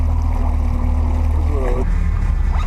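A boat heads out on the water, its engine a constant low rumble with a hum beneath, while people speak faintly and a brief whistle-like tone rises over the drone.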